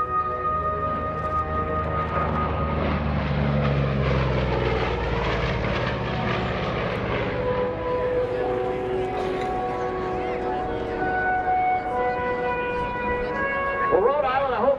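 An FG-1D Corsair propeller fighter makes a low pass at an airshow, its engine drone swelling loud overhead and slowly fading, with a voice coming in near the end.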